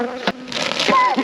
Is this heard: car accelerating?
no